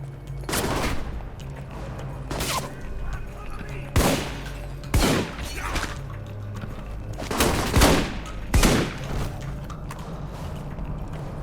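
Gunfire in the video game Alpha Protocol, loud sharp bursts repeating every second or two over a steady hum of game noise.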